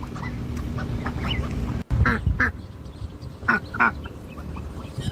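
Ducks quack outdoors in short bursts of nasal calls, several in quick succession and then another cluster, fairly close over a rumbling background, with no talking.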